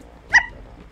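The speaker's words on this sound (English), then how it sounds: "Is that a dog?" A small dog, a chihuahua, gives a single sharp bark right into a microphone, brief and loud, then nothing.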